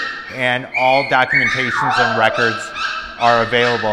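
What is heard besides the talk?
Cavapoo puppies barking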